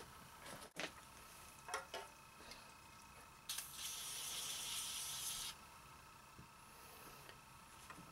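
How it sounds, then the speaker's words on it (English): A couple of seconds of steady, quiet aerosol hiss as Ballistol lubricant is sprayed into a Glock pistol, with a few faint clicks and handling ticks before and after. "I just sprayed some Ballistol."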